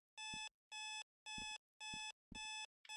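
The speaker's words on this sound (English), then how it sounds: "a super annoying alarm clock" Alarm clock in the video game Sally Face ringing in loud, harsh electronic bursts, five evenly spaced half-second blares with a sixth starting, alone with no voices.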